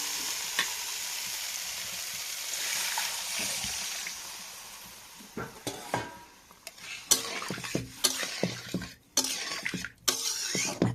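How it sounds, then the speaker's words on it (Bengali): Frying ginger and spice paste in a pan while cooking a fish curry, with steady sizzling and stirring, then water poured in, followed by bursts of hissing and sharp scraping and clatter of utensils against the pan. "আদাটা একটু কষিয়ে নিয়ে জল ঢেলে দেবো।"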